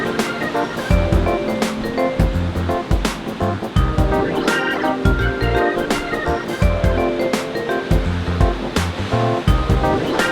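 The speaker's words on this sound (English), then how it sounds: "The waves crash and the tides come in and go out" Ocean waves crash on a beach, surf surging and breaking in repeated loud swells that roll in every second or two, close and steady, with no voices.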